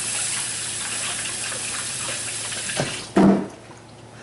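Hands are washed under a running kitchen tap: a steady rush of water, then a louder splashing gush near the end as the hands go under the stream.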